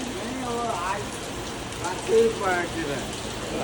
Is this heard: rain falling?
yes